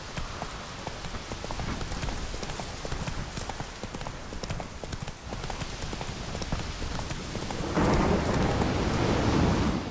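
Roach, the horse in The Witcher 3, trots with steady clip-clop hoofbeats through pouring rain while thunder rumbles, and the rain swells louder near the end.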